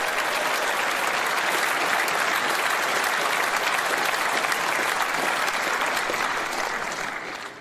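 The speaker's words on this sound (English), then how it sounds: "So let's give Kemi a big Reform round of applause." A big conference audience at a Reform party event gives a sustained round of applause, steady dense clapping throughout that starts to fade at the very end.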